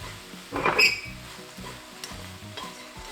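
Small dried anchovies stir-fried in a pan, a brief loud burst of sizzling and scraping followed by softer stirring and faint clinks of utensil against the pan.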